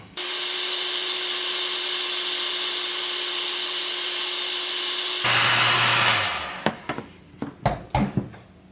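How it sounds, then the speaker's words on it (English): Heat gun blowing a steady loud hiss over soldered LED turn signal wires on a Yamaha FJ09 Tracer, then shutting off and winding down, followed by a few sharp handling clicks and knocks. "just use a heat gun right over the center"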